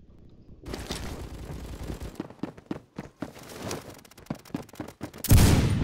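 M4A1 assault rifle firing in the video game Phantom Forces, a long run of rapid, closely spaced shots in bursts, loud and near, ending in a heavier blast, with no talking.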